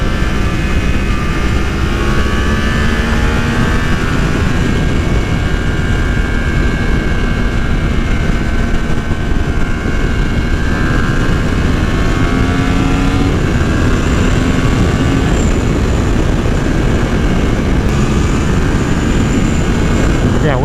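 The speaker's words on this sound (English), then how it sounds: "That engine sounds good" A 2020 Yamaha R1 sport bike's engine drones steadily while riding, its pitch rising and falling with the throttle against constant wind rush, loud and continuous throughout.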